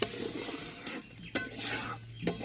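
Spice paste stirred in a pan after water goes in, for Bengali banana-flower kofta curry, with a soft sizzle underneath and a few sharp clicks of the spoon against the pan.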